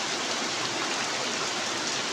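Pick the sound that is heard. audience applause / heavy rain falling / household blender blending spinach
heavy rain falling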